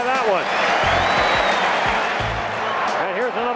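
Basketball arena crowd roaring and applauding after a Charles Barkley dunk, a broad sustained cheer under a commentator's talk throughout.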